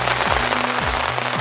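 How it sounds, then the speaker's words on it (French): Rain pours steadily outdoors at the Rocher des Druides. The hiss is loud and close, and a few low tones slide downward in repeated sweeps. "Depuis 4 h ce matin, il n'arrête pas de pleuvoir,"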